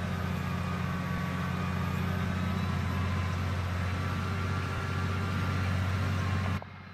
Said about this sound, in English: engine sound, that deep rumble.